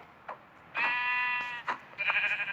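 Sheep bleating in Minecraft, a short faint bleat followed by a long, loud, wavering baa and a couple of shorter bleats, close and clear against a quiet background.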